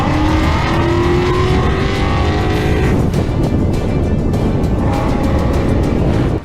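A Ford Mustang accelerates hard on a highway during a police chase, its engine loud and roaring with rising pitch as it pulls away, under heavy road and wind noise.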